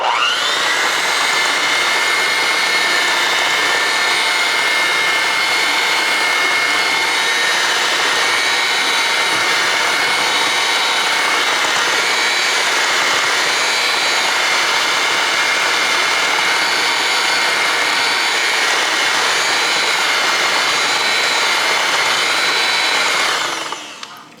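A loud electric hand mixer runs steadily for about 24 seconds, beating banana bread batter with a constant high whine and no speech, then cuts off at the very end.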